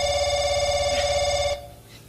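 A telephone rings loudly and continuously with a steady electronic tone for about a second and a half. The ring then stops abruptly and leaves a quiet room behind it.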